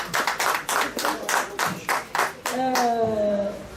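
A small audience at a press conference for a comedy show claps in a few loose bursts, fairly close, before a voice breaks in over the last of the applause.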